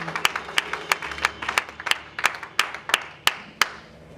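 A church congregation claps to praise God, with a steady, fairly even rhythm of about a dozen sharp claps heard close.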